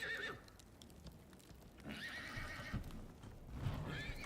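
A horse in the survival game Icarus whinnies shrilly several times over clip-clopping hooves and game ambience, moderately close.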